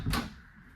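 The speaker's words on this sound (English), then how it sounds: "if you close the door, you have more storage for your towels and stuff" A single soft thump of a medicine cabinet door closing in an RV bathroom in a 2022 Salem Cruise Lite 171RBXL travel trailer, close and brief, followed by quiet room tone.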